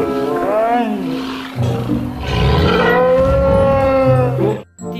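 A T-Rex dinosaur roar effect from a toy dinosaur showcase, heard as a long, loud, rising and falling bellow that fills most of the clip and cuts off sharply near the end.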